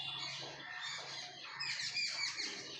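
Mynas, drongos and bulbuls squabble together on a branch, a faint, busy tangle of chirps, squawks and sharp calls overlapping with no pauses.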